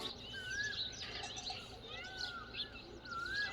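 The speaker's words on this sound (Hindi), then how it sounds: "जो गांव में चहल पहल होती है ना पक्षियों की, वो टोटली हो रही है" Birds chirp and trill repeatedly in a village in the morning, a steady chorus of high whistling calls at moderate distance over faint background ambience.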